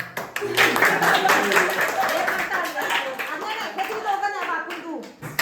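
Hands clap together at a family terrace party for Diwali, a dense ragged burst of applause running throughout with people chattering and a voice mixed in.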